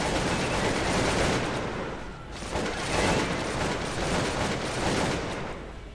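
Massed musket and rifle fire in the strategy game Cossacks 2 set in Napoleonic-era Europe, a dense continuous crackling fusillade with rolling volleys rising and falling over six seconds.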